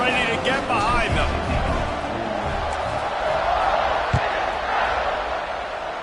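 Stadium crowd at an American football game before a kickoff, a loud steady roar of many voices with whoops and cheers, one sharp thud near the end, and a commentator talking over it.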